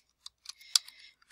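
A handful of computer keyboard keystrokes while entering data into an Excel spreadsheet, with sparse clicks and a short cluster of taps, quiet and close with no talking.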